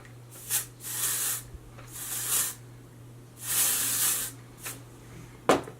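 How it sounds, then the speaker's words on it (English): Several bursts of hairspray hiss close up onto hair, some short and some held for about a second, with brief pauses between them. "we're going to take the hairspray. What we're going to do is we're going to spray the hair."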